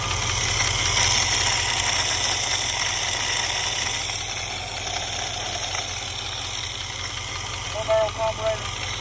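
A 1985 Camaro Z28 with a 305 V8 and an Edelbrock four-barrel carburetor idles steadily with a loud, rough rumble, and a few brief revs or knocks come near the end.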